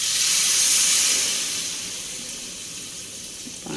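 Water poured into a hot pan of cooking cauliflower gives a loud burst of hissing steam and sizzle. The noise fades to a softer, steady hiss, and a brief clatter comes near the end.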